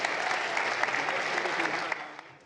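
Audience applause at a student science challenge event, a dense steady wash of many hands clapping throughout, loud and close, easing slightly toward the end.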